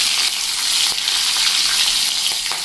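Green chillies hit hot oil in a pan while cooking a vegetable dish of fresh chickpea leaves, giving off a steady, bright sizzle with fine crackling throughout and no voices.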